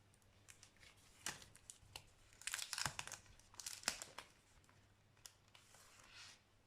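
A Memorydex package being opened, with crinkly plastic and paper tearing and rustling in close, quiet bursts over a faint steady hum, no talk.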